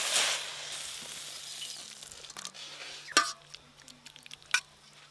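Bori pieces and greens stirred and frying in a pan, a soft sizzle under occasional scraping strokes and a couple of sharp clinks from the utensil against the pan, fairly close and quiet.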